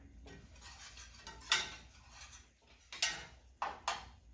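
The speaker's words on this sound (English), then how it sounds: "So I'm gonna give it a stir" Marinated pieces of Moorish pork kabob are stirred in a pan, giving a few faint, scattered scrapes and metallic clinks with quiet pauses between them and no voices.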